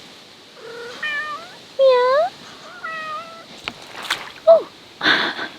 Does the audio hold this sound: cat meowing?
yes